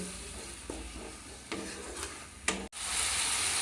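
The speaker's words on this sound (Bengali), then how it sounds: "এবার আমি সবটাকে একটু কষিয়ে নেব" A prawn pulao spice mixture of powdered spices and a little water is sautéed in a pan, giving a steady close sizzle with a few spoon scrapes before an abrupt cut to a brighter, hissier fry.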